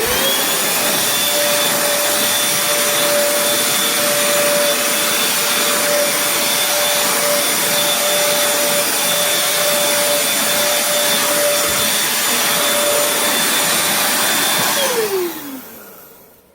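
A Bissell Featherweight stick vacuum cleaner runs close by with a loud, steady motor whine and airy rush, then spins down as it is switched off near the end.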